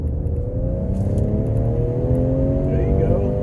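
A 2019 Ford Edge ST's turbocharged all-wheel-drive engine revs up steadily under hard acceleration, a continuous rising drone with a faint whir, close and fairly loud.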